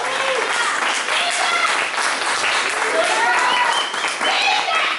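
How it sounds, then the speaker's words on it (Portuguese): A church congregation applauds as a woman named Carol enters; loud, sustained clapping fills the whole stretch, with raised voices and cheers rising over it. "vamos bater palmas para ela"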